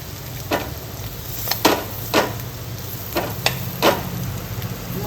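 Chopped carrots and green chillies fry in a pan over a low flame for a gujarati gajar sambharo, giving a steady soft sizzle broken by several scraping stirs of a spoon, about one every second.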